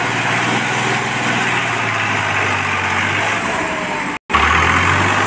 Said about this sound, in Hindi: ट्रैक्टर बिल्कुल दम तोड़ रहा, और हिम्मत नहीं कर रहा चढ़ने की